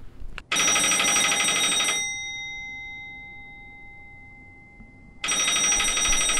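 Old telephone bell ringing loudly in long bursts, one ring fading into a decaying ringing tone before the next ring starts, with no talking.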